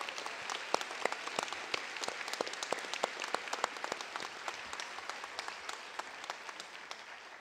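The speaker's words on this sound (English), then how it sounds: "let's give them a nice round of applause" A large ceremony audience claps in a steady, sustained round of applause, dense individual claps blending into a broad wash that holds at an even level throughout, with no talking over it.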